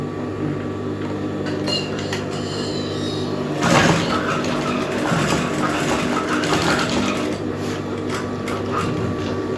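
A sewing machine stitches a flare skirt with a steady, close mechanical whir and hum that runs throughout, swelling briefly partway through, with no talking.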